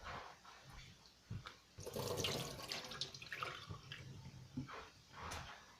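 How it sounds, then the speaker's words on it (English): Water pours off a cooking pot into a kitchen sink in a steady, rushing splash lasting several seconds, up close and alone, with a few clanks around it. "let me pour the water off"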